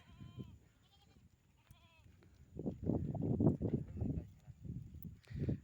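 Goats in the far rural edge of Pabna district bleat several times in clear, wavering calls, close by, alongside soft shuffling and a few low rumbles from the herd.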